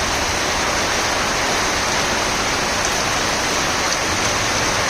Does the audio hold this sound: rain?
yes